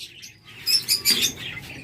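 A pair of caged pet birds offered for sale, giving a short burst of three or four bright, close chirps after a faint opening twitter.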